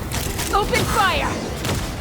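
Rapid bursts of gunfire from a gun battle in Genshin Impact, loud and continuous across the moment, mixed with a booming mechanical clatter and whistling tones.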